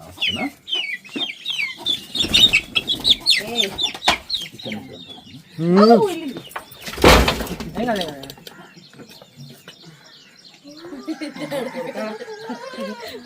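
Chickens cluck and squawk nearby in irregular bursts, with a loud flapping rustle midway and people talking in between.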